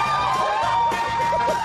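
Teammates Kira, Aoife and Dan cheer and whoop from the sidelines of a cold sea swim, a loud lively burst of shouting voices near and continuous.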